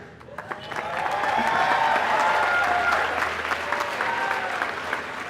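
Sustained applause from a large audience at a 2015 university undergraduate commencement ceremony in a big hall, swelling quickly and holding steady, with some crowd noise, then tapering slightly toward the end.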